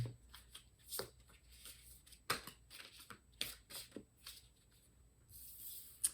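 Rapid papery riffling and soft slaps of a tarot deck being shuffled, in repeated bursts with short pauses, close and fairly quiet, no talking.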